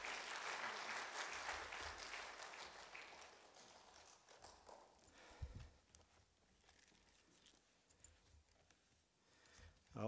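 A church congregation at a Sunday worship service claps to welcome the pastor, a dense burst of applause that gradually thins out into scattered claps and quieter room noise, heard from a distance.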